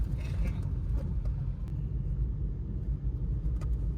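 Low, steady rumble of a Volkswagen Polo engine running on CNG and road noise heard from inside the moving car, a constant drone with faint ticks.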